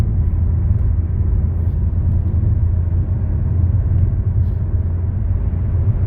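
An MG ZS petrol car pulling away and driving through city streets, heard from inside as a steady low engine and road rumble, constant and fairly loud without pauses.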